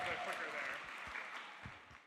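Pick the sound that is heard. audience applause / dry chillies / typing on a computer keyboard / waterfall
audience applause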